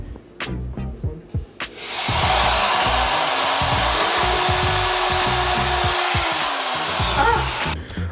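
Power drill driving screws into the support structure of a droid prop, first a few sharp taps and knocks, then a long steady whirring drive with pitch shifts, ending in a short burst, with no one talking.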